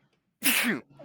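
A single loud, close sneeze bursts out mid-conversation among people at a tabletop role-playing session, with a brief word spoken just after.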